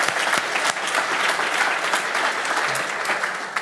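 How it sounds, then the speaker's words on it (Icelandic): A conference audience at an Alzheimer's association event in Iceland claps warmly and continuously, a thick, even wash of applause from start to finish. "Bara klappa fyrir ykkur"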